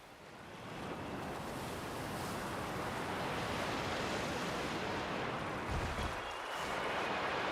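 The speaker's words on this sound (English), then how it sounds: "I'm not sure I'd call it a river since it's mostly just runoff from a waterfall" Waterfall runoff in Pokemon Violet rushes in a broad, steady wash of noise that swells in over the first second, then holds at a constant moderate level.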